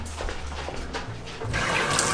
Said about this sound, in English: Let's get water for them.